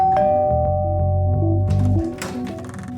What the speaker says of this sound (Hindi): अब मेरे 2 ऑफिसर डोरबेल बजाएंगे।